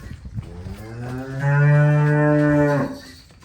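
A buffalo lets out a single long, deep moo close by, rising and holding for over a second before fading.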